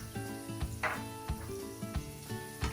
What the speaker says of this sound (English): I'm going to start adding my spices, going to lower my flame a little